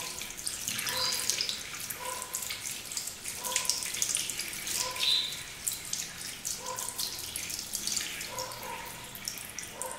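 Tap water runs steadily into a sink while makeup brushes are rinsed under it, giving a continuous splashing hiss with soft rhythmic gurgles and drips, close and fairly loud, with no talking.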